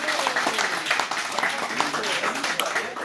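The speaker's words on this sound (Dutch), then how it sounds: "ik wil een heel hard applaus voor alle DJ's" Applause for the DJs at the launch of Radio Gemiva, a crowd clapping steadily and fairly loudly throughout with a busy, mixed texture that may carry some voices.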